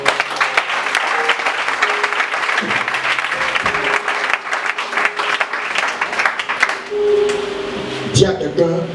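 A church congregation at a night prayer vigil applauds the Lord with sustained, dense clapping and crowd noise, near and loud, with voices calling out beneath it before it thins toward the end.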